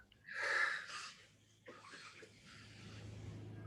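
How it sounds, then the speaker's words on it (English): A single deep breath, drawn in audibly and then let out slowly during a calming exercise, close and fairly soft, with faint room noise afterward. "Take a deep breath."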